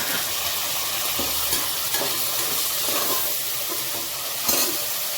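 Shallots and tomato sauté in a pan for drumstick leaves rice, a steady close sizzle with soft stirring scrapes and a brief louder clatter near the end; no voices.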